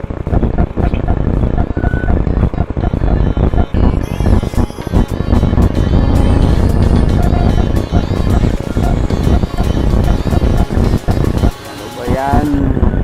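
Road traffic rumbles continuously with passing vehicle noise and wind buffeting, loud and close, with voices talking over it throughout.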